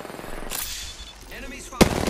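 Enemy gunfire in a space combat video game: a burst of rapid shots early, then a sharp, loud blast near the end over a low background hum.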